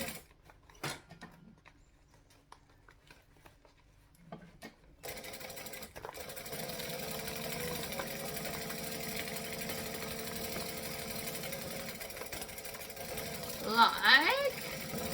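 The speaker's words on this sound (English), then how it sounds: "We're just going to stitch around the whole base." A sewing machine runs steadily, stitching around the base of a round three-dimensional fabric piece, a continuous close mechanical whir after a few quieter handling sounds, with a brief louder burst near the end.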